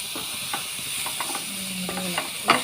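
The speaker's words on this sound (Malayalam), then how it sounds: "ക്യാബേജ് ഇട്ടിട്ട് ഒന്നുകൂടി ഇളക്കാം." Shredded cabbage tossed in a hot frying pan, with scattered spatula scrapes and clinks over a soft background hiss, close by and moderately quiet, no talking.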